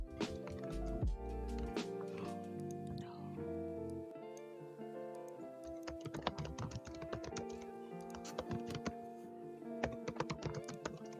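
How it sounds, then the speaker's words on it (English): Computer keys clack in quick, uneven bursts of typing, growing busier and more prominent toward the end over a steady tonal background hum. "He quit clacking them keys."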